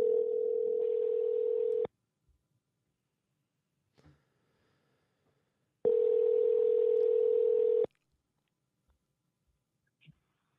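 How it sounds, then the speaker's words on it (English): A steady telephone dial tone sounds twice, each burst about two seconds long, loud and clean with quiet gaps and faint clicks in between, while a call is being placed on a radio show. "I'm going to call him, and hopefully he's going to pick up"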